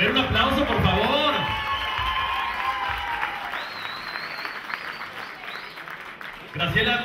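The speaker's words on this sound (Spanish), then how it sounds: "A ver, un aplauso por favor." Audience applause with cheering and shouts at an awards show, loud and sustained across the whole stretch with a crowd roar, fading slightly toward the end before a fresh burst.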